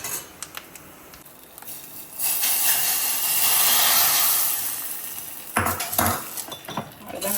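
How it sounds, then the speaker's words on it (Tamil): Grated coconut roasts in a pan, producing a broad, steady sizzling hiss that swells in the middle and then fades, with light clinks of a utensil against the pan before and after. "இப்போ தேங்காய் நல்லா வறுபடட்டும்."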